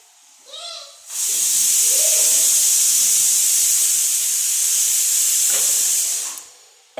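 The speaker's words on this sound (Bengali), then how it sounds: "এই প্রেসার কুকারের সিটিটা বন্ধ করে দাও তো" A kitchen pressure cooker whistle lets off a loud, sustained hiss of escaping steam lasting several seconds, starting abruptly and then tapering off, after a short burst of speech at the start.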